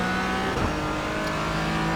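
A Porsche Cayman GT4 in iRacing at Sebring, its engine held at full throttle with a steady, loud, buzzing drone that rises slightly in pitch throughout.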